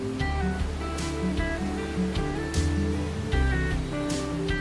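The Krimml waterfall in Austria sends a continuous broad rush of falling water, steady and full throughout, with a tonal musical bed running beneath it.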